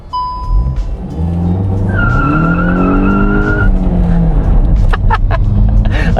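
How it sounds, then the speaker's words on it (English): A stock VW Mk8 GTI does a first-gear burnout, its engine revving hard and its tires squealing loudly and continuously for several seconds, with rough roaring and scrubbing noise close by. "You boost it up in first gear, it'll light these things up and do a burnout, as you could hear."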